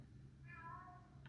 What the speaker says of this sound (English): I told you the cat meow.